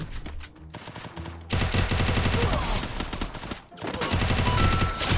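Loud, rapid bursts of automatic gunfire from a 50-round weapon in the mobile shooter game Free Fire, with two long sustained volleys separated by a short pause.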